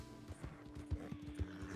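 Horse hooves clip-clop in Red Dead Redemption, a steady, faint rhythmic clatter of a ridden horse traveling along a route, with low game ambience beneath.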